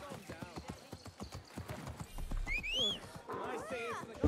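A horse in a video game clops along in a quick, even hoof rhythm, with a snort and a whinny partway through and another neigh near the end, while a voice talks over it.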